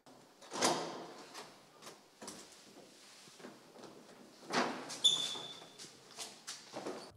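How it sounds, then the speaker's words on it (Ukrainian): An apartment door is opened after a quick run up the stairs, heard as a quiet series of clicks, knocks and handling noises scattered over several seconds, with a brief metallic squeak midway and no speech. "Швидко пробігає сходами та відкриває двері."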